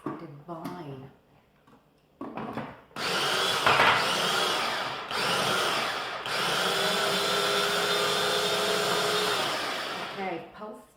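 A food processor pulsing broccoli for pesto: after a few seconds of talk, loud whirring motor bursts run for several seconds with brief pauses between pulses, close and harsh.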